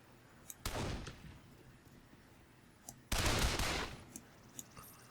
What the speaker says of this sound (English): Just let these guys shoot at what they want to shoot at.